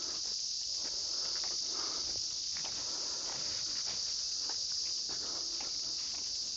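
Cicadas in Japan drone in a continuous high, shrill chorus that fills the background at a steady level, with faint rustling beneath and no talking.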